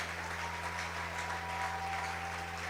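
A church congregation claps steadily and densely in a continuous wash of applause, loud and sustained throughout with no talk on top, alongside a low steady hum.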